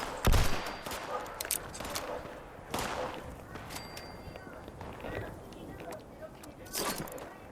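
Nuka Magnum fired in Fallout 76, a few sharp, loud single shots spaced seconds apart, with quieter game noise in between.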